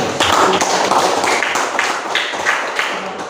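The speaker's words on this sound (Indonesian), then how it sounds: "kita berikan tepuk tangan untuk kelompok" A class claps together in a classroom, fast uneven clapping with some louder individual hits, close and steady for a few seconds.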